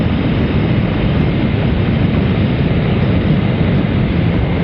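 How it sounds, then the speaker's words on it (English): Steady, loud roar of wind buffeting the rider at speed on a Honda CL500 or Triumph ST955i motorcycle, a broad, unbroken rush with no talk and no letup. "the first thing I notice is the wind noise"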